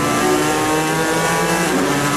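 A race car at the 2016 24 Hours of Le Mans gives a loud, steady, close engine roar with a high whine that holds evenly through the whole stretch.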